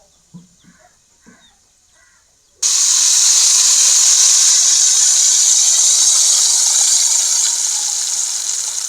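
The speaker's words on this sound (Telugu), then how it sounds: "ముందుగా కలిపి చేసి పెట్టుకున్న చేపల పులుసుని ఇందులో పోస్తున్నా" Fish tamarind curry poured into a pan of hot tempering with curry leaves bursts into a loud, steady sizzle that holds for several seconds, after a few quiet small clinks.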